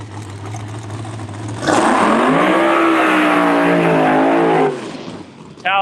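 A Hart Racing drag race car launches at Empire Dragway, its engine rising to a loud, sustained, climbing roar for about three seconds before cutting off, with a faint idle before and a brief burst at the end.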